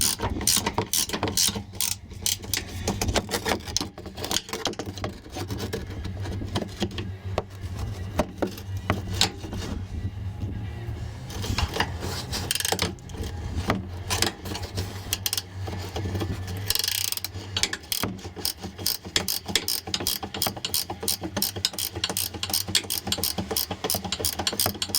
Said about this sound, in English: I think the ratcheting wrench is probably your best bet up here.